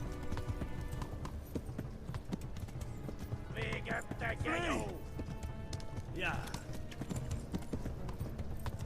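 Horse hooves clip-clopping at a gallop in Kingdom Come Deliverance, a fast steady rhythm running throughout, with a couple of brief whinnies and snorts cutting in around the middle.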